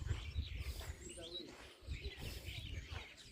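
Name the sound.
birds chirping and cooing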